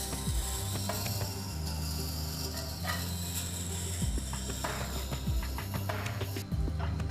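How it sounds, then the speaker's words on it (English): A Tormek SVD 185 sharpening machine grinds a spoon-shaped gouge against its turning stone, a steady mechanical whir with repeated low knocking and ratchet-like clicks as the tool is rolled, continuous and fairly close. "In the same way, you can sharpen spoon-shaped gouges."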